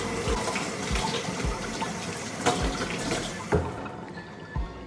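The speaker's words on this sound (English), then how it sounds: "after only about 1 minute of rinsing my goggles with cold water" Swimming goggles rinsed under a cold running tap, a steady close wash of flowing water with a few louder splashes and knocks as they are turned in the stream.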